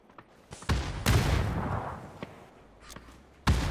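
Gunfire in a PUBG tournament match, scattered sharp shots at uneven intervals with a few heavier close bangs and quieter distant cracks between them.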